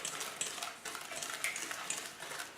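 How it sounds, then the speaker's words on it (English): Chocolate cupcake batter stirred in a bowl as eggs go in, soft repeated scraping and faint clinks of a utensil against the bowl, quiet and close with an irregular rhythm. "Sydney is now just going to add our eggs into this mix, one at a time, while I stir."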